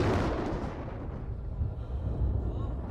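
A deep, rumbling thunder effect meant as a voice from heaven rolls continuously for about three seconds, loud and broad, with booming low swells and no speech over it.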